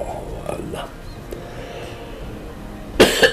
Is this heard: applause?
no